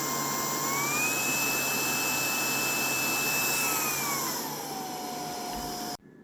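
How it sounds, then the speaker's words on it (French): A Proscenic cordless vacuum cleaner runs with a steady close whine that shifts in pitch as suction levels change, then cuts off abruptly near the end. "lorsqu'on passe un coup d'aspirateur"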